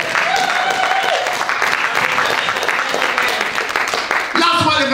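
A church congregation breaks into loud, sustained applause that fills the room, with a voice calling out over it and music rising near the end.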